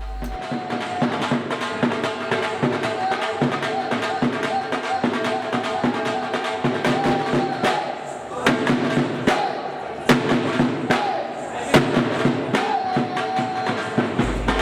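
Drums pound in a fast, steady rhythm, loud and close, with a crowd murmuring underneath, at a railway station as passengers board the Indian Maharaja train.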